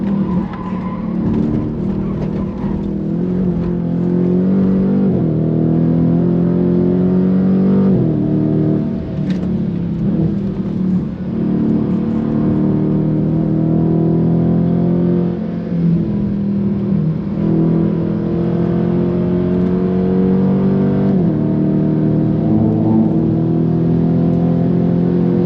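A Dodge Charger Scat Pack on all-season tires lapping the Nürburgring, its engine droning loudly and steadily for the whole stretch, rising and falling through gear changes with occasional tire squeal.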